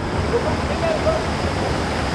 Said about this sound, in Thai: น้ำไหลเชี่ยวมากนะครับ